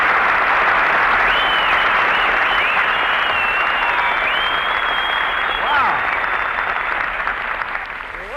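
Studio audience at a Jack Benny radio show broadcast from Chicago, clapping in a sustained, dense wave of applause that fades near the end, with a faint whistle over it and no talk.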